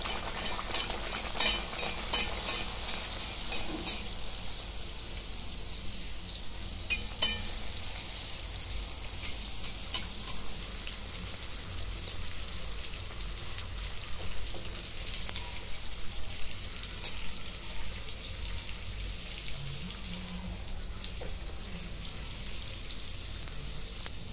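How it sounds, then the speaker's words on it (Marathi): Bhature fry in hot oil for chhole bhature, a continuous soft crackle and sizzle at close range, steady throughout with occasional light pops and stirring. "आता इथे तेल गरम झालंय, त्याच्यामध्ये सोडून घेते."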